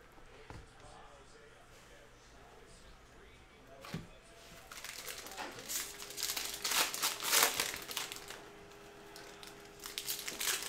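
A Panini Prizm cello card pack is torn open. Plastic wrapper crinkles and crackles in loud bursts, with a sharp tearing burst partway through.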